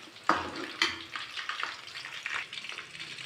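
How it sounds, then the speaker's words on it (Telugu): Chicken kebab pieces frying in hot oil, a steady crackling sizzle with a couple of sharp splashy pops near the start, no talking. "బాగా వేగేదాకా వేపుకోవాలి"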